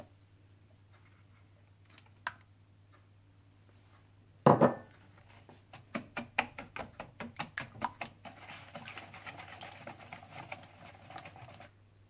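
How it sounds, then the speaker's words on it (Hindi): Butter, caster sugar and eggs are mixed in a bowl for brownie batter, heard as a sharp knock followed by a run of quick, close clinking and scraping strokes against a quiet background. "आप इसमें अंडे डाल दें और इन्हें भी अच्छी तरह से मिक्स कर लें"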